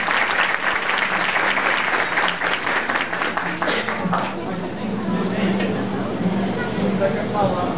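An audience at a 2005 graduation ceremony in Cajazeiras claps steadily for about eight seconds, the applause dense and sustained with faint chatter mixed in.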